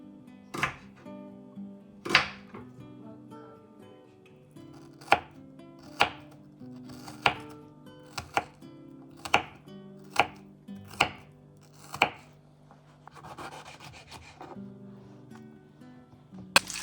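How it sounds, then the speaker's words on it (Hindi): Onions and tomatoes being chopped with a knife on a board, a dozen or so sharp, crisp knocks at irregular intervals, close and distinct against a quiet room. "पिछले 15 मिनट से ना प्याज और टमाटर काट रहा हूँ"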